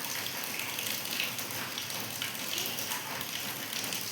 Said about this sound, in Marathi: सकाळ सकाळच पाऊस यायलाय